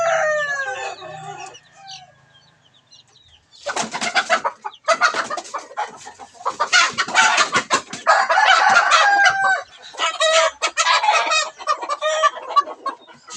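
Large roosters crow loudly and repeatedly, with clucking from farm chickens between long crows, close and unaccompanied by talk.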